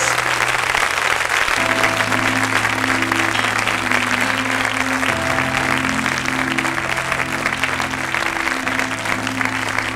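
Continuous congregational applause in a church fills the whole stretch, thick and even, over sustained music tones without distinct talk.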